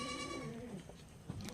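A Boer goat bleating, a quavering nasal cry up close that trails off, followed by a few fainter calls and rustling in the background.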